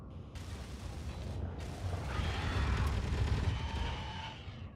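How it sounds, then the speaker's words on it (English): Welding in the Space Engineers game makes a steady, loud mechanical grinding and crackling hiss that runs without pause, with a brief dip near the start, and no voices. "let me weld all this up, and then we'll see where we get"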